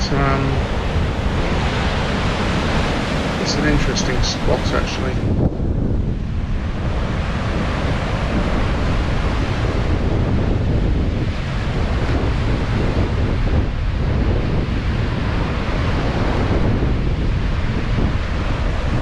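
Atlantic Ocean waves crash onto the rocky beach at Hartland Quay in a steady, loud roar, buffeted by wind noise on the microphone, while someone speaks briefly over the surf.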